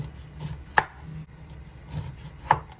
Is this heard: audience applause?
no